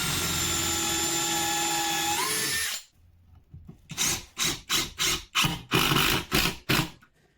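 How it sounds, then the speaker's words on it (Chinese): A cordless power drill drives a self-tapping screw into a loose crossbar of a bed frame. A sustained motor whine rises in pitch and cuts off, then after a pause come about eight short, loud, evenly spaced bursts of drilling. "解决办法的话，就是这儿打颗螺丝加固一下。"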